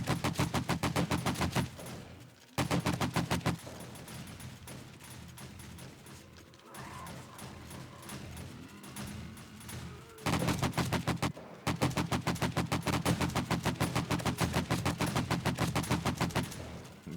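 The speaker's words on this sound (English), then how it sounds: "I'm going to get my AK-47 back out." An AK-47 fires in the zombie survival game 7 Days to Die: rapid automatic bursts, a short pause, a quieter stretch of scattered action, then a long sustained volley of loud, evenly spaced shots.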